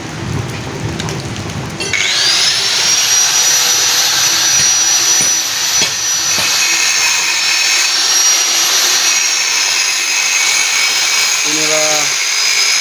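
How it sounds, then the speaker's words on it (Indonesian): A power tool slices open an air conditioner compressor with copper inside, a loud, steady high whine with a grinding rasp that starts abruptly after a brief quieter lead-in and runs on continuously. "Inilah Abah Gondrong yang sedang membelah kompresor AC."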